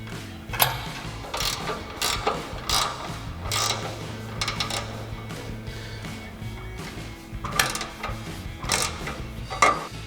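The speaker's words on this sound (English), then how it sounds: "we'll come in with our 14mm ratchet wrench and tighten this down" A 14mm ratchet wrench tightens a bolt on a Silverado 2500 HD rear bumper, giving runs of close, crisp pawl clicks in bursts with short pauses between strokes.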